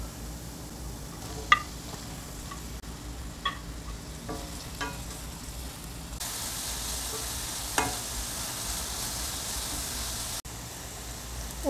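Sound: chopped onions frying with ginger and garlic

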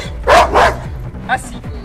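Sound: reactive Rottweiler dog barking

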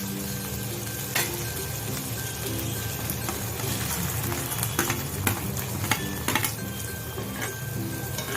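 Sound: onion frying in hot oil

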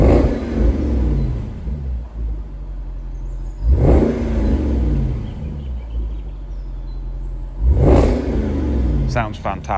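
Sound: 2010 Jaguar XKR 5.0 supercharged V8 engine revving

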